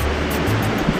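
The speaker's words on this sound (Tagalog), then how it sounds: "Sabihan mo umaangat na kamo yung tubig." Steady wash of sea waves at rising high tide on the shore at Al Shuqaiq, Jizan, Saudi Arabia, a continuous low rumbling surf heard fairly close with no voices.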